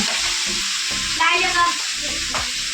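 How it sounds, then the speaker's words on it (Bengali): Fish heads fry in oil with a loud, continuous sizzle close by, broken by a few brief clinks and scrapes from stirring. "এদিকে মাছের মাথা ভাজা হয়ে আসছে"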